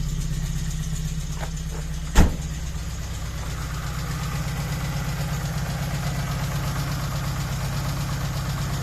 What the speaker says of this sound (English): I'll just let that sit on a very fast idle.